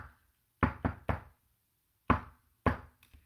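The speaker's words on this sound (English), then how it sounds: "Aries knocks" Ritual knocking in a Thelemic rite: sharp wooden knocks, close and clear, struck in a quick group of three, a pause, then two more single knocks.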